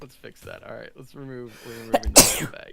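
A single sudden, loud sneeze bursts out near the end, right on the heels of a man's casual, continuous chatter.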